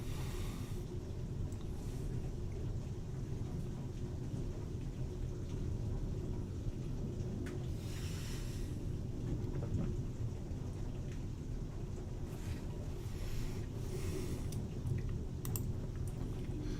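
A storm outside brings a steady wash of rain with low thunder rumbling underneath, faint and distant, plus a few brighter bursts; no one speaks.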